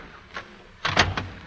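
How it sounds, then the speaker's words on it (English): Old-time radio sound effect of a door opening: a soft click, then after a pause a louder, close burst of rattling, clunking clicks lasting about half a second. "Our hero opens his door."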